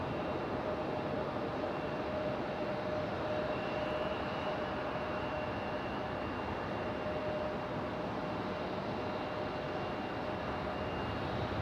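An American Airlines airliner at Raleigh-Durham airport, a continuous loud jet engine roar with a steady whine, unbroken for the whole stretch.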